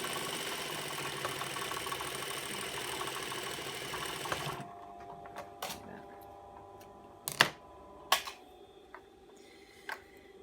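A sewing machine stitching a seam on a leftover-thread face mask runs in a steady, close whirring hum, then stops abruptly and is followed by a few scattered clicks and taps.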